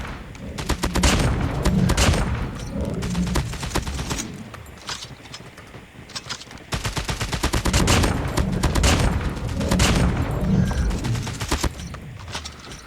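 A Man-O-War rifle in a video game fires sustained rapid automatic bursts, close and loud. There are two long strings of shots with a brief pause between them.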